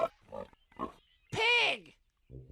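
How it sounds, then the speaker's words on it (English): A short pig oink rises between bits of a child-friendly voice, a single loud grunting squeal standing out clearly amid spoken words before and after. "Pig."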